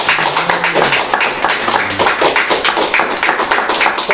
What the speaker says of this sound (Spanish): Dale fuertes palmas a Cristo.